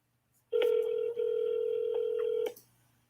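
A telephone call tone sounds: a short keypress blip, then a steady loud tone holding for about two seconds with one brief dip, ending abruptly in near silence.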